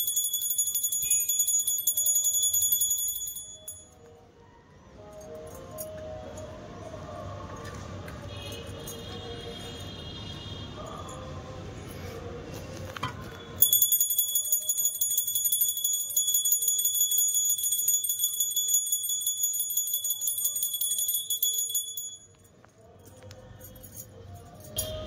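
A small hand bell is rung continuously during a home puja on Kumar Purnima, a bright metallic ringing with a faint voice under it, dropping out briefly and then returning.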